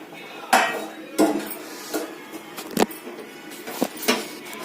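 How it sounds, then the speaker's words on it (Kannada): A metal plate set over a cooking pot, producing several close metallic clanks and scrapes spaced about a second apart, moderately loud with no talking. "ಈಗ ಪ್ಲೇಟ್ ಮುಚ್ತಾ ಇದೀವಿ. ಪ್ಲೇಟ್ ಅಲ್ಲ, ತಟ್ಟೆ ಮುಚ್ತಾ ಇದೀನಿ."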